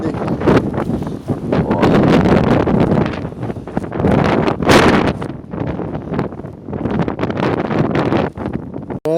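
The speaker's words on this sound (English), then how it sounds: "It's really windy." Strong wind batters the microphone on a freezing hike, a loud, continuous roaring buffet with gusty surges and rustling throughout.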